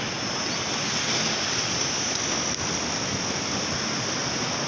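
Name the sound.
fast-flowing water in a canal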